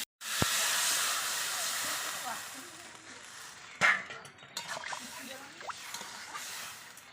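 Potatoes with salt and turmeric hiss in hot oil in a pan, cooked for a Bengali rohu fish curry with potato and eggplant. A steady broadband sizzle runs throughout, broken by a sharp clatter near the middle and a few softer knocks.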